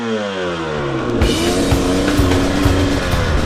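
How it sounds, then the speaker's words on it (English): A 300 two-stroke motorcycle engine fires up and runs close by, holding a steady buzzing note with rising and falling revs. "here we go on the 300 two-stroke"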